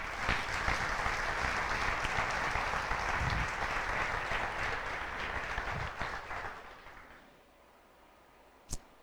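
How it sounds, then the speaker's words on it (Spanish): A congregation at a Spanish-language Holy Week service applauds in a dense, sustained wave that tapers off after about six seconds, followed by near quiet and a single sharp knock. "Dale un aplauso a Él que te ama"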